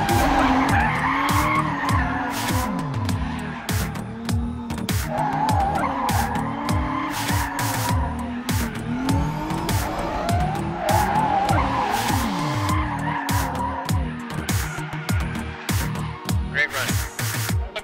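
A Toyota autonomous drift car slides through repeated skids, its tires squealing in long wavering howls over a roaring engine, loud and continuous throughout with sharp bursts between slides.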